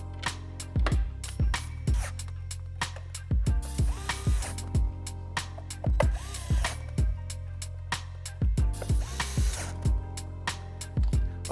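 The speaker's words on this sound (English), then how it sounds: "Now we're going to go ahead and reinstall the screws for the fender delete." A power tool drives screws back into a Onewheel Pint fender delete, with repeated short whirring bursts and sharp clicks in a stop-start rhythm, loud and close.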